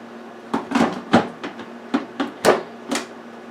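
A plastic Ninja blender cup is set back onto its base and twisted into place, making a series of about eight sharp clacks and knocks, close and distinct, with no talking.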